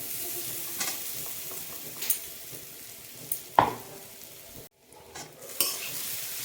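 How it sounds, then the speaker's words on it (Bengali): Ground chickpea paste sizzles in hot oil with ginger and green chili paste, with a steady fry hiss broken by several sharp spoon scrapes and clinks against the pan and a brief pause near the end. "এই বেটে রাখা ছোলাটাকে দিয়ে দেবো"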